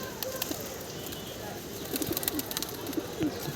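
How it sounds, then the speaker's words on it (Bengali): Pigeons pour out of an opened loft in the mid-afternoon, their soft cooing and calls rising over a steady outdoor hum, growing busier and more frequent in the second half. "কবুতরগুলো ছেড়ে দিছি, কবুতরের ধাপ্পির গেট খুলে দিছি"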